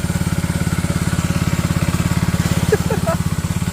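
A motorcycle engine runs close by at a steady idle, its rapid even exhaust pulses thumping throughout, with a brief voice cutting in near the end.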